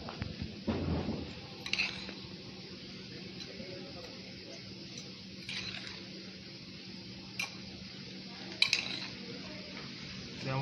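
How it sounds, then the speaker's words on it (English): A filling is mixed with seasoning in a bowl, giving soft squishy stirring with utensil scrapes and light clinks against the dish, close and moderately quiet, with brief voice-like sounds in the background. "Together, mix it together nicely."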